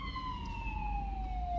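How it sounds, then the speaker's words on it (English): An EMS emergency vehicle siren wails outside a house, a steady tone slowly falling in pitch, heard at moderate distance over a low background rumble. "I apologize for the sound of the sirens, but something's going on."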